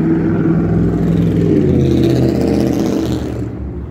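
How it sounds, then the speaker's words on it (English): Truck rumbling past on the Las Vegas Strip in the morning, loud and close with a steady low engine drone that fades slightly as it moves away. "Waiting for a truck to go by."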